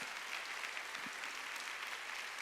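A congregation at a Sunday church service claps in a steady, dense patter that sounds fairly distant and soft throughout.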